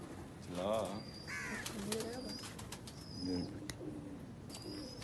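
Pigeons coo in short throaty bursts nearby, several soft calls over a couple of seconds, with scattered clicks and background noise.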